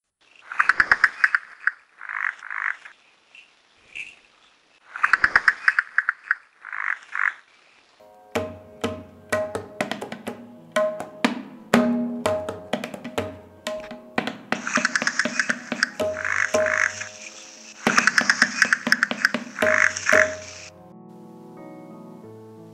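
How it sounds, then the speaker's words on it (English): Calls of the Malabar gliding frog in the Western Ghats, a series of sharp, repeated clicking croaks in bursts. Later the calls sound under a layered musical backing with plucked, percussive notes. "These mnemonic syllables perhaps represent the call of the Malabar gliding frog."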